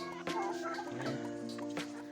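Chickens make throaty, gobbling clucks close by while being fed grain, a steady fowl chatter with a few sharp bursts.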